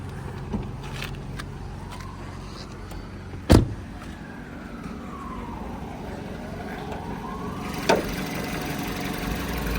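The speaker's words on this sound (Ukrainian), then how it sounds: "Так працює двигун." A Seat Ibiza's 1.6 MPI engine idling steadily nearby, a low continuous hum with a couple of sharp knocks or clicks and a faint rising-falling whine.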